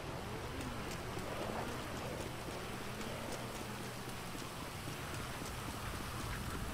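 Steady rain falls in GTA 5 Online, a soft continuous patter on surfaces with scattered droplet ticks, faint and even throughout with no voices.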